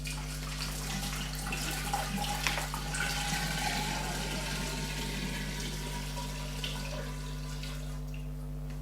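Water pours steadily into a large 5-litre container, a continuous rushing splash at an even level over a low constant hum, with no voices.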